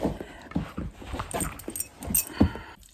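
A dog whimpers and whines restlessly in short, uneven bursts at close range, with scattered small rustles and jangling.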